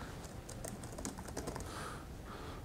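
Rapid, quiet clicks of computer keyboard keys being typed in quick uneven bursts, heard close but faint over a soft room hiss, with no voices.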